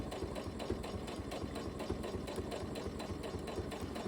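Sewing machine running steadily while stitching a workwear jacket, a continuous mechanical hum with rapid rhythmic needle pulses, close and fairly loud with no talking.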